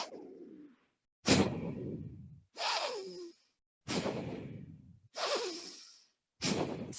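Forceful, rhythmic breaths during a yoga breathing exercise in a power vinyasa class, with loud rushing exhales and inhales in a steady series of about six, close to the mic.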